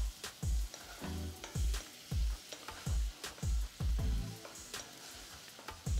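Shrimp sautéing in oil in a pan, loud sizzling that rises and falls in regular bursts as the pan is tossed or stirred, roughly every half second, close and clear.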